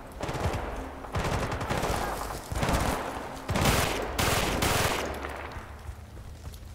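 A Suomi submachine gun in Battlefield Bad Company 2 rips off several loud, rapid bursts of fire, each a dense rattling stream separated by short pauses, with a brief voice between them.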